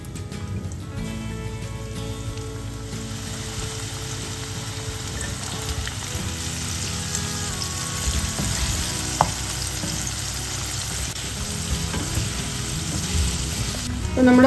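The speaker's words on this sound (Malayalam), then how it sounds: "അപ്പോൾ നമ്മുടെ ഫസ്റ്റ് സെറ്റ് നല്ല ഫ്രൈ ആയി കഴിഞ്ഞ് നമുക്കതിനെ ഒന്ന് ഇതിൽ നിന്ന് എടുക്കാം." Popcorn chicken deep frying in plenty of hot sunflower oil over a medium flame gives off a loud, dense sizzle and crackle that holds steady throughout, close up, with no voices.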